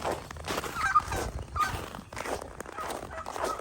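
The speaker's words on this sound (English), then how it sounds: "Look at all those chickens. And a turkey." Farmyard fowl, chickens and a turkey, make scattered soft clucks and gobbling calls at moderate distance, mixed with shuffling and movement noise, with no clear speech.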